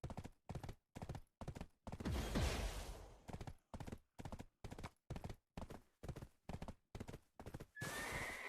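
A horse in the Black Desert video game whinnies loudly while rapid, evenly spaced hoofbeats of galloping clip-clop continue steadily underneath.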